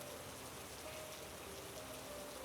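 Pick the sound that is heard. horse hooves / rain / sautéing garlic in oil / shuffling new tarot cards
rain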